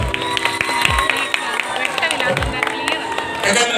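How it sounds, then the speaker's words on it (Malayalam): An audience claps at a Christmas prize ceremony, a dense steady wash of applause mixed with crowd murmur and a voice talking over it. "എല്ലാവരും കൈയടി കൊണ്ട് പ്രോത്സാഹിപ്പിക്കാം"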